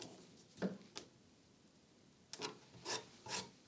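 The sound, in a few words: sanding plywood pieces by hand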